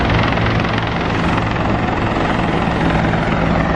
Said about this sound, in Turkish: Çok fazla helikopter sesi var.